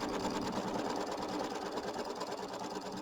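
An embroidery machine stitching to tack fabric down on a mini quilt block, a steady rapid mechanical whirr and needle chatter, close and continuous throughout without pauses.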